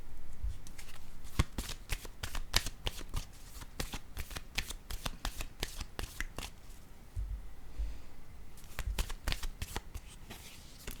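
Tarot cards shuffled and laid down one after another on a table, a steady run of crisp close slaps and flicks with brief pauses, no talking.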